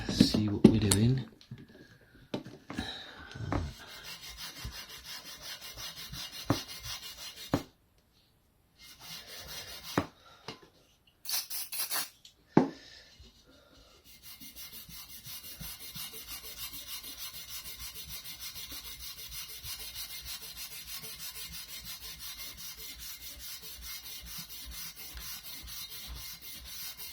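Scrubbing of a Scotch-Brite pad against the inside of a wheel rim, irregular rubbing strokes and gaps early on, then a steady close scraping texture for the rest, with no voices.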